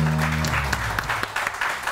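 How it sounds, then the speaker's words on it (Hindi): Studio audience applause on a Pakistani morning TV show, a dense wash of clapping that runs steadily throughout, with a faint musical tone fading out at the start. "लेकिन आपा के लिए जोरदार तालियां"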